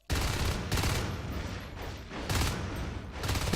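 Marines fire shotguns in the Natural Selection video game, giving a dense fusillade of loud, close blasts in rapid overlapping bursts with brief gaps. No voices are heard.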